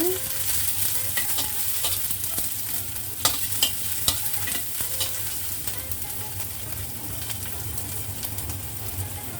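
Onion sautéing in hot oil in a wok for egg fried rice, a steady close sizzle with stirring scrapes and a few sharp spatula clinks, continuous throughout.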